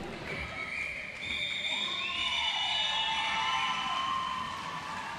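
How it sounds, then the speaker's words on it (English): Crowd noise rises at a roller derby game near its close, a sustained roar of cheering and shouts from the stands swelling after the first second and holding loud throughout, with whistle-like tones above. "I hope you can hear the crowd from home."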